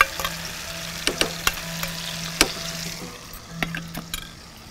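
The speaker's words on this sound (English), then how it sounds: "Yeah, it's sizzling." Chili garlic paste sizzles in hot coconut oil in a pan, a steady close frying hiss broken by sharp pops and spits scattered throughout, with no talking.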